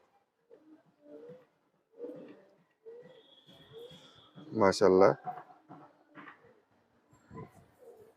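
Pigeons coo in a home loft, soft low calls coming in short bursts, with a louder burst near the middle, while someone speaks briefly among them.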